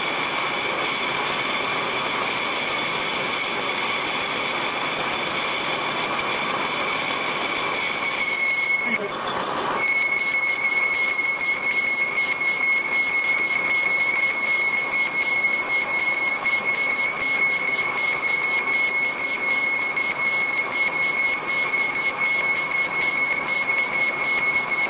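A metal lathe cuts an engine flywheel with an insert tool, giving a steady whirring drone with a sharp high-pitched whine that rises midway and holds to the end, loud and close.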